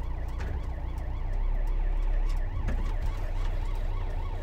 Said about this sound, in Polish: Gdzieś jest karetka